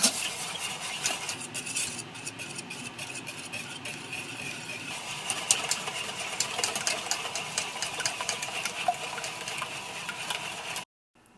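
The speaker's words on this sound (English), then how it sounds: "And then I'm going to mix." Salt and pepper being stirred into an onion tart custard in a bowl, a steady scraping and clinking of utensil against the dish running continuously for about eleven seconds, close and moderately loud, with no talking.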